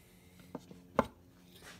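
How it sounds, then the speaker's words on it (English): A mallet driving a chisel into a wooden blank, striking three times with sharp, close knocks, the last blow loudest, each separated by a short pause in a quiet workshop. "I'm having to use a mallet and a chisel"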